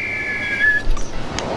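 A single sustained whistle blast in the Harry Potter and the Philosopher's Stone PS1 video game, a steady high tone lasting over half a second before sliding off, followed by brief faint game sounds.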